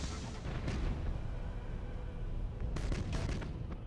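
A ship bombards a Chaos outpost in Battlefleet Gothic Armada, deep rolling booms and rumbling blasts continuing throughout, with a cluster of sharper bursts toward the end.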